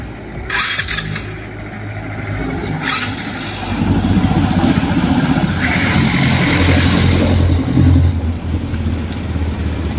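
A Honda Beat FI motorcycle engine cranks and catches close by, idling roughly before revving up louder and holding a steady, strong drone.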